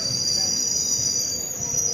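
A passenger train at Borgang station, Assam, on the Rangiya Express route, giving a steady loud rumble with a sustained high metallic squeal of wheels on rails, close by and continuous.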